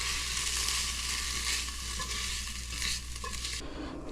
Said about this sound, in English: The kielbasa. Just let that saute until I get about some